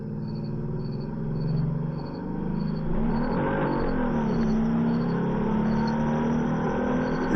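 A Buick's engine drones steadily through a run, swelling a little as the car accelerates, with a slipping transmission. The sound is continuous and fairly close, with a thin high whine running above it.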